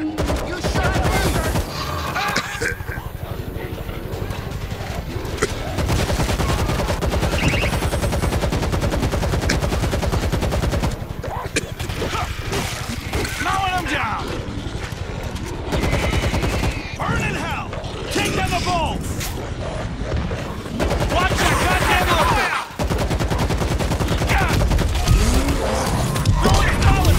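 Bursts of automatic gunfire in the zombie shooter World War Z, dense and loud, mixed with shouting players, creaks and game effects, with brief pauses between volleys.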